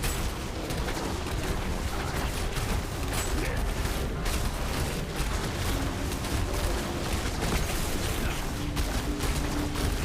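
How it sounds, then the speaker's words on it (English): Slashing scythes and exploding marks from a Necromancer in Diablo Immortal: a dense, continuous barrage of rapid swishing strikes and booming bursts, loud and unbroken throughout. "those slashing scythes are triggering that mark to explode"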